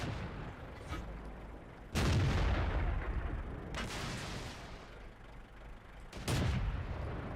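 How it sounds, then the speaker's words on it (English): A KV-1S tank cannon in World of Tanks fires three heavy booming shots spaced a couple of seconds apart, each with a rumbling tail over continuous battle noise. "Let the KV-1S fire."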